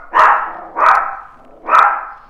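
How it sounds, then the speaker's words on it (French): A dog barks three times in a steady rhythm in a kitchen, loud and close, with no talk over it. "Et il y a Nessie qui aboie."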